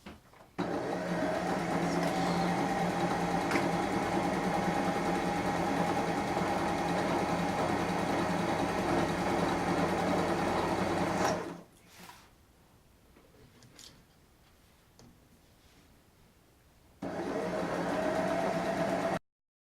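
An electric sewing machine stitches the inseam of comfy pants from Simplicity pattern 8672, running in a long steady whir, stopping for several seconds, then starting again near the end.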